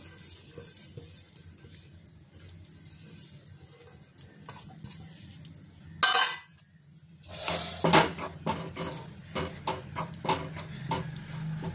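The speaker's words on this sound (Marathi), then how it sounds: "आता आपण थोडंसं गव्हाचं हे जे पीठ आहे ते आपण भाजून घेऊयात" Wheat flour roasting in ghee in a kadhai for methi laddu: steady scraping and stirring with a metal spatula, clattering against the pan, with a brief louder burst of clinks midway and no talk.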